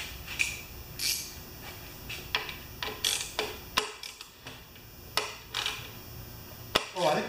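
A socket wrench ratchets on a Craftsman engine with an auto choke, giving close, irregular bursts of sharp clicks and creaks across several seconds with no talk.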